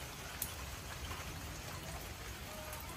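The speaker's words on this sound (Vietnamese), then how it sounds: "Mưa nữa rồi đó mẹ" Steady rain falls outside a home kitchen, a soft continuous patter and hiss at low volume, with no clear voices over it.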